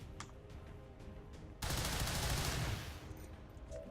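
A burst of rapid gunfire from the XCOM 2 video game rips out suddenly after a quiet stretch, loud for about a second, then fades into a softer rattling tail.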